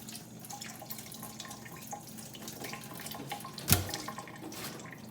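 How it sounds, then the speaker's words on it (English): Water running from a filtered kitchen tap while something is rinsed, a soft steady trickle and drip with one brief louder splash midway, quiet and close. "I give it a second rinse under the filtered water tap"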